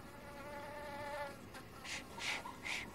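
Insects, identified as flies, buzz in short bursts around people at a riverside home, with a faint steady hum and soft background sounds.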